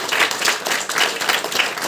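A congregation claps at a Christian worship service, producing dense, loud, continuous applause from many people for the whole short stretch.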